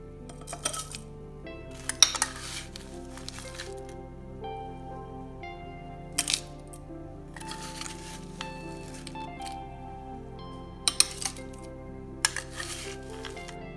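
Crushed ice for a raw mango drink clinks and rattles into a glass in a few separate bursts, with quiet pauses between the sharp, bright scoops.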